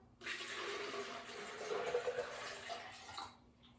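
Water pours steadily into a container for about three seconds, a full gushing stream close by, then stops.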